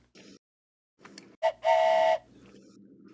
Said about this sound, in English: A choo-choo whistle.